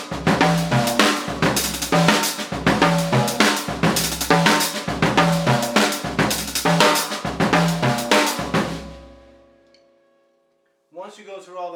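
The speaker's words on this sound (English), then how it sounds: "So if we keep all this stuff that we just included and now we double stroke some notes," Linear drum groove on a full kit with double strokes added, rapid paired hits across hi-hat, snare and toms in a loud, driving pattern, then a ringing decay and a voice starting.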